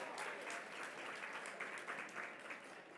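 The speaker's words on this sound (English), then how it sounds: "Come on, hand clap for that." An audience claps together at a talk event. The steady, even applause is fairly faint and sounds distant, and it holds level for about three seconds with no voices over it.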